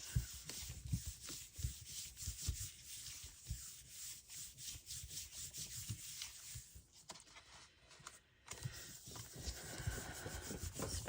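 Paper hand-burnished over a stencil on a paint-covered gel printing plate gives steady, close rubbing strokes in a continuous scratchy rhythm, with no voices.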